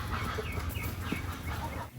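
Backyard chickens clucking softly during their morning scratch feed on the ground, a few low murmuring calls over a dull outdoor background, fairly close and without talk.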